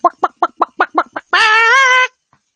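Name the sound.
chicken (chook) clucking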